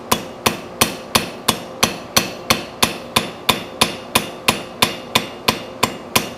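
A cross peen hammer strikes hot metal at a forge in a fast, even rhythm, each blow a sharp, close, ringing clank, about three per second, alone without talk.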